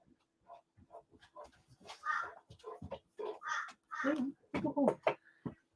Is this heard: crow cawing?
yes